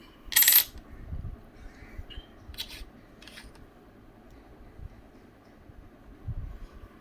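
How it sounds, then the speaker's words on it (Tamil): An old Japanese coin is set down among other foreign coins in a collection, giving one sharp metallic clink early on, followed by faint rubbing and a couple of softer taps against a quiet room background. "ஒரு ஜப்பான் நாட்டு நாணயம் வச்சிடுறேன்."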